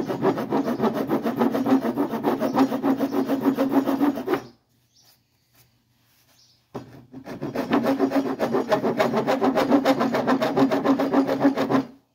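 A wooden edge is rubbed hard with a rasping stroke while making dowels, a loud continuous scraping that runs about four seconds, stops briefly, then resumes for another five, with no talking.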